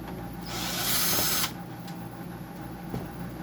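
A power screwdriver whirs for about a second while pulling screws from a General Electric dehumidifier during a teardown, followed by faint clicks and handling noise against a steady background hum.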